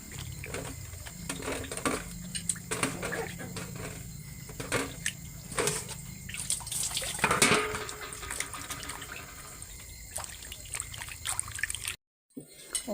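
Water left over from washing vegetables is poured out onto garden plants, giving an uneven splashing and trickling with scattered clinks and taps, ending in a sudden cut to silence.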